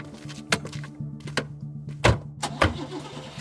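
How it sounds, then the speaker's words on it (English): Car starting in a dramatized scene on residential streets of Georgetown: a rumbling low engine tone runs throughout, punctuated by several sharp thunks and bursts, close and moderately loud, with no talking. "starts the car and begins driving aimlessly through the upscale residential streets of Georgetown"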